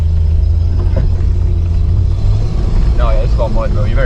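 A car engine rumbles low and continuous while off-roading on a tight, narrow trail, with people talking over it throughout.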